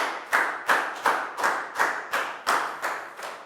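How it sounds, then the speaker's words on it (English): A classroom group claps in a rhythmic unison beat, about three claps per second, each sharp and close, with no voices over it. "a big round of applause for Dan"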